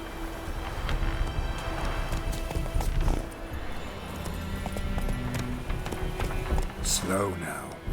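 Horses galloping in the video game The Witcher 3: Wild Hunt, rhythmic clip-clop hoofbeats running throughout with occasional snorts, heard beneath ongoing speech.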